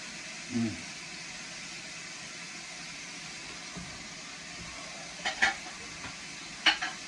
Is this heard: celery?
yes